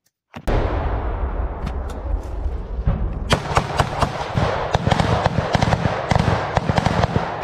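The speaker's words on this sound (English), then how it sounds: "they're firing the AT-4s, and then you'll hear the rate of fire really pick up" AT-4 anti-tank weapons and heavy machine guns fire in urban combat against a house: a sharp initial blast, then a rising stream of loud cracking shots and thumps, growing denser and faster toward the end.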